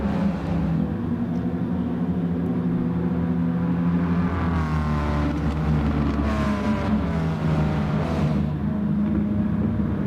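A steady roaring racing car engine in a sim racing game drones continuously, rising and falling in pitch as it revs, loud and close throughout with no talking.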